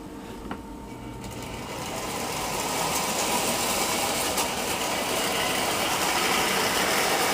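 Prewar Green Diamond streamliner model train engine running on track, a steady mechanical whir and rattle that swells after the first second and holds at a constant level, close and alone.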